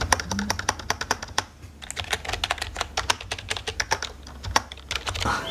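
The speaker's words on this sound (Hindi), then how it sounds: "वो मैकेनिकल कीबोर्ड का जो साउंड आता है ना, वो साउंड चाहिए था" Close, crisp clicking of keys on a Redgear mechanical gaming keyboard, with fast irregular keystrokes and a brief pause partway through.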